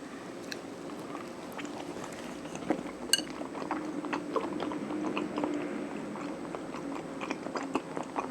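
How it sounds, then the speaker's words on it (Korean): Someone biting and chewing homemade potato songpyeon, a soft Korean rice cake, with close, moist mouth sounds and occasional small clicks, no talking. "집에서 만든 감자 송편인데요. 먹어볼게요."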